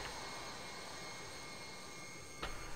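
A jet engine winds down during shutdown in the Prepar3D flight simulator, a steady broadband roar with faint whining tones that stays fairly quiet and unchanging. A brief click sounds near the end.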